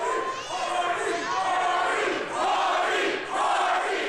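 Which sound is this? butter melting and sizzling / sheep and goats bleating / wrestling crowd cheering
wrestling crowd cheering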